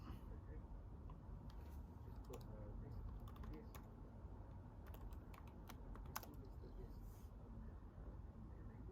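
Quick bursts of keystrokes clatter on a computer keyboard as a Diskpart command is typed, faint and close over a low rumbling background hum.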